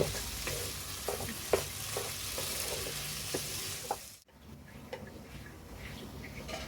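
An almond and poppy seed mixture roasts in ghee over medium-low heat, giving a steady soft sizzle broken by repeated scraping stir strokes, then fading to a quieter crackle.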